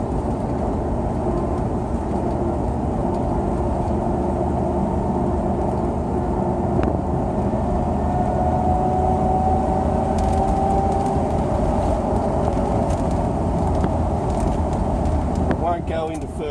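Cabin drone of a car driving at around 60 km/h with a suspected automatic transmission or differential fault, a steady loud road and drivetrain rumble with a faint whine that rises midway and persists throughout.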